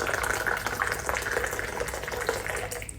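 Hot tea with sugar is poured back and forth into a teapot to mix it without a spoon, giving a steady, close splashing and trickling stream of liquid that runs continuously and fairly loudly, with no voices over it.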